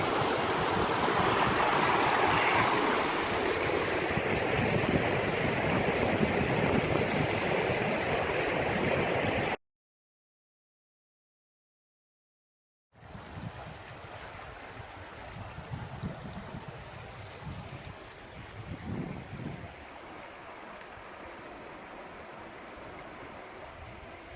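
Steady rush of Harper Creek's flowing water in Pisgah National Forest, loud and close, broken by a few seconds of silence, then resuming a little softer with small splashes.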